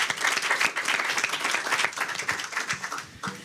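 An audience at a venture capital panel event claps in a lively round, close and fairly loud, with distinct individual claps that thin out near the end.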